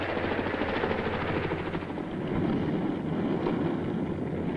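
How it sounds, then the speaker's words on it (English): A helicopter's rotor thumps in a steady, rapid low pulse beneath broadband wind-like rush, heard fairly close and alone with no voices over it. "The helo's powerful rotor wash can be used for more effective crop dusting."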